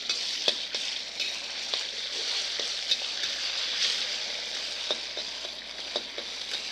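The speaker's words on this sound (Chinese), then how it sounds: "现在锅子里呢，把油烧热了，来先过这些荤料，也就是肉片儿" Meat slices frying in hot oil in a wok, a loud steady close sizzle broken by sharp clicks and spatters throughout, with no talking.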